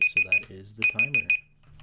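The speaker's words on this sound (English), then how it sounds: "The timer." A 15-minute timer alarm in Minecraft rings as two quick bursts of three or four sharp beeps each, loud and close, followed by a short tail of quiet.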